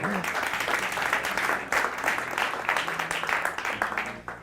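A sustained round of audience applause for a volunteer at a magic show, with many hands clapping steadily and fairly evenly.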